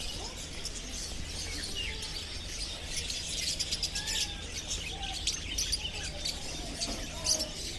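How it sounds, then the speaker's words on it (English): Many small birds for sale at a market in Qatar, including parakeets, chirp and tweet busily together in a continuous chorus, with steady background noise and no talking. "So many birds. For sale."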